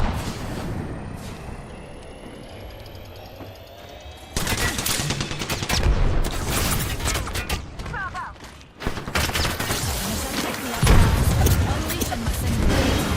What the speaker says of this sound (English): The second squad is firing at us